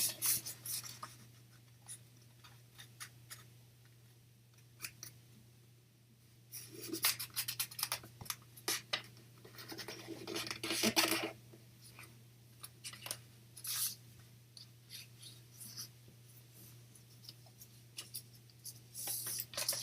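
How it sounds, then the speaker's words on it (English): Sheet of origami paper handled while making a heart: repeated soft crinkles, rubs and crisp creasing scrapes at close range, clustered in bursts with quiet gaps, over a steady low electrical hum, no talk. "open up the paper and fold it diagonally the other way"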